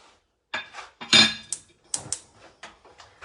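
Chopped celery and carrots tipped into a pot for clam chowder, giving a series of sharp clattering knocks and scrapes against the metal, close and fairly loud, with short pauses between bursts.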